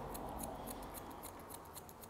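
Grooming scissors trimming the hair in front of a Labradoodle's eyes during a Schnauzer-style trim: a rapid, even series of crisp metallic snips close to the microphone over a steady hiss.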